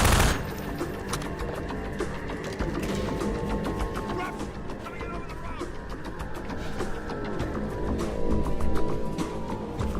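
In Half-Life 2, mounted guns fire in dense rapid bursts, a loud continuous rattle of automatic gunfire that runs for the full stretch with only brief dips, while a player talks over it.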